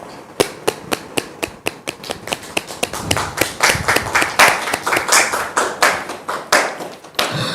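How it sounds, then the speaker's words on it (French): Audience clapping, starting as sparse individual claps in a steady beat and building into denser overlapping applause, close and fairly loud with no distinct cheering. "redonner des acclamations ou des applaudissements très nourris"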